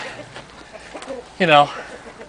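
A chicken lets out one loud, harmonic squawk amid faint talking and low ambient noise outdoors.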